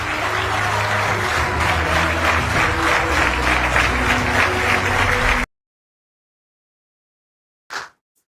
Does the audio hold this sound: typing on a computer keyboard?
no